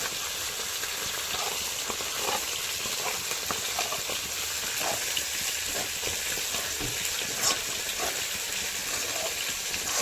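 Spice paste and cauliflower fry in two pans at once, a loud constant hiss and sizzle with faint scattered stirring ticks, unbroken throughout.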